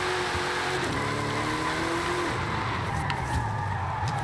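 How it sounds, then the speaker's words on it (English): A 1964 Chevrolet Impala SS 409 V8 drifting in a racing video game, steady engine roar with tires squealing in long slides, heard close and continuous. "For a V8 with 1500 horsepower, it sounds amazing."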